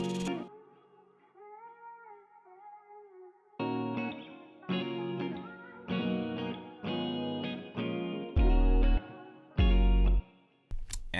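A processed sung R&B vocal with auto-tune, EQ, chorus and compression, thick layered harmonies and echoing tails, over a beat with deep bass hits, loud and upfront.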